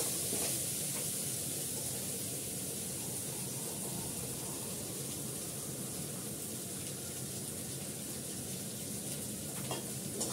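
Spice paste of ginger, cumin, coriander and pepper being sautéed in a pan, a steady dense sizzle with stirring running throughout, no voices.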